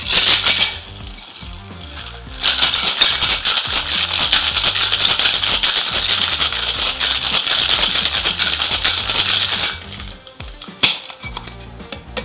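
Cocktail with orange peel shaken hard in a shaker, a steady loud rattling chatter lasting several seconds, close by, beginning after a short pause and ending in a few scattered knocks.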